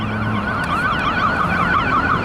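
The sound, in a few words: ambulance siren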